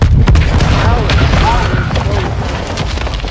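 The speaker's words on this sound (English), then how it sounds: "he triggered the explosion again." A deep explosion booms at the start of a raid in the Modern Warfare 2 video game, then rumbles and fades over a few seconds, loud and close.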